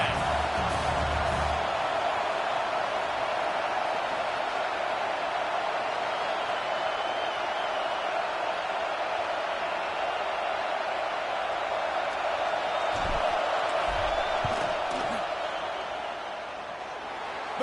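A college football stadium crowd before a fourth-down field goal kick, a sustained loud roar of massed voices that stays steady and dips slightly at the end.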